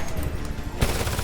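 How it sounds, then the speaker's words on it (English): Machine gun fire in the video game Homefront, a dense continuous rattle of rapid shots with a heavier burst near the end, loud and close throughout. "Machine gun, second floor window."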